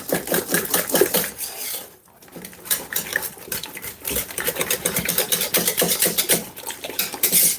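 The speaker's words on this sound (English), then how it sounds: "this is the time where I'm gonna use my whisk and just go in like this" Rapid metal whisk scraping and clinking in a pan of béchamel sauce, a busy near continuous rattle with a brief pause about two seconds in, no talking.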